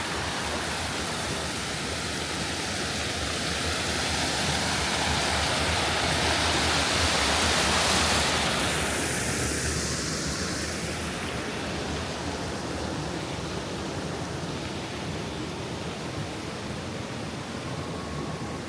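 Water rushes through the former mill site at Poinsett State Park, a constant loud, broadband roar that continues unbroken with no voices.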